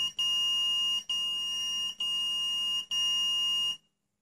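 A T ReX measurement tool in resistance-meter mode beeps on a short circuit along a ground path: four steady, bright electronic beeps, each nearly a second long with brief gaps, loud and close, then silence.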